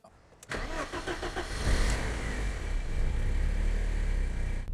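A 1990 BMW E30 left abandoned for ten years cranks and fires, its starter whirring briefly before the engine catches and settles into a loud, steady, slightly rough idle close by with no talking.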